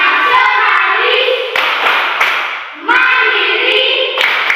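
Schoolchildren perform a rhythmic classroom clapping chant, bursts of unison hand claps alternating with loud sung-out words, the group close and energetic.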